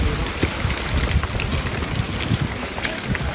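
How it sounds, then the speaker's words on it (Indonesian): Rain falls on a mountain hiking trail on Mount Penanggungan, a close, busy patter of drops with gusty wind buffeting the microphone, steady throughout and without speech. "Tuh, kayak udan iki."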